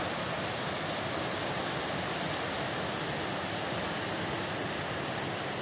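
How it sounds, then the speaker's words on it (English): River rapids on the upper Salmon River roar in a loud, dense, unbroken wash of rushing water that stays constant from start to finish. "we are at one of our favorite rapid holes on the salmon, upper salmon"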